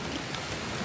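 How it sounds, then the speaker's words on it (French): Heavy rain with big drops falling on a beach, a dense, steady broadband wash of noise close by with no voices, filling the short moment evenly. "vraiment il pleut genre des grosses gouttes, genre t'es mouillé en 3 secondes"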